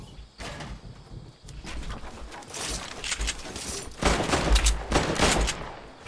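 SMG fire in a Fortnite winter royale match, scattered bursts of rapid shots with some heavier, louder volleys toward the end, mixed with other game sounds.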